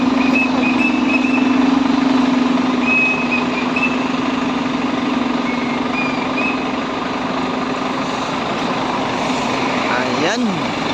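A first-class Volvo bus parks, its reversing beeper repeating over a steady engine drone, with people talking nearby.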